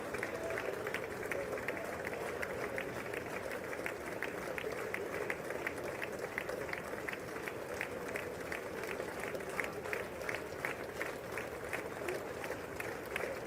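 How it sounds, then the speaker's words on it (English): A large crowd gathered as a dignitary greets Supreme Court justices breaks into sustained applause, dense rhythmic clapping that holds steady throughout with a voice talking faintly underneath. "Lots of applause."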